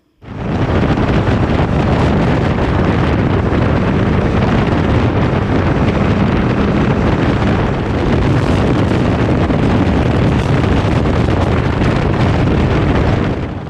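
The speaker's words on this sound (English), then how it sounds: "It is so windy up here." Strong wind roars steadily across the microphone while riding a Can-Am Ryker up in the mountains between València and Tarragona, a loud continuous broadband rush with no talking.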